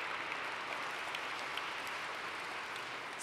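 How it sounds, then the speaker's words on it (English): Audience applause at a school network's spring benefit gala, steady clapping from a crowd heard from a distance for a few seconds, with no voices over it. "You can clap for that."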